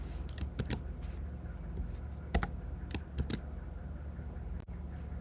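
Java code typed on a computer keyboard: close, crisp key clicks arrive in short uneven bursts and single taps, quiet overall with a few sharper strokes.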